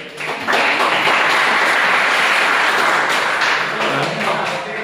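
A classroom of students claps for three classmates, a loud, full burst of applause that starts abruptly and holds steadily for several seconds before tapering slightly.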